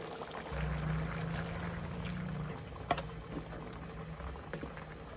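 Water is poured into a bubbling pot of arroz caldo for a couple of seconds, then the simmering continues with soft pops and a clink.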